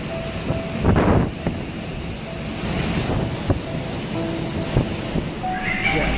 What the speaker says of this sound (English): the wind seems to have changed directions, and it's now just blasting these windows